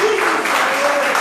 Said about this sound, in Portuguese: Você pode aplaudir o nome do Senhor por aquilo que Ele faz?